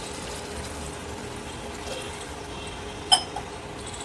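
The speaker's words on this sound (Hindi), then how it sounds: "अब हम 1 गिलास पानी डालेंगे" Water pours steadily into a pressure cooker of cooking mutton masala with a soft continuous splashing wash, and a brief clink of metal near the end.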